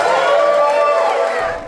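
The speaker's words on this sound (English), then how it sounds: "Tears and applause as William Fitlow Hunt walked into the room" Cheering, whoops and applause from friends and family fill a room as a man arrives home after 60 years in prison, a dense, loud crowd swell that fades toward the end.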